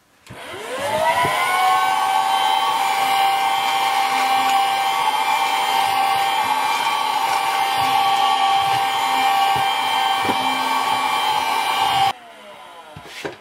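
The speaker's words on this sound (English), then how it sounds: "Pull out the old vacuum." A vacuum cleaner is switched on and runs with a steady, loud motor whine and a high tonal hum for about eleven seconds, then cuts off abruptly, during work on a large Zaku II model kit.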